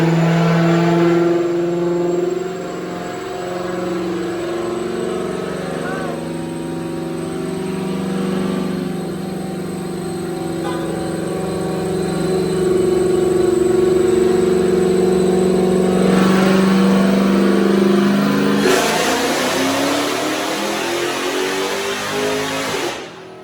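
A tuned car's engine revs hard on a chassis dyno, a loud sustained mid-pitched drone that climbs steadily through a long pull, then shifts and roars up again near the end before cutting off abruptly.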